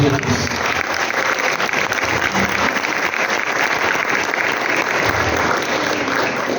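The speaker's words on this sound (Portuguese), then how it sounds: "Aplauda o Senhor pela vida dele em nome de Jesus." Congregation in a church service applauding, loud continuous clapping mixed with voices and cheering throughout, sustained at a steady level.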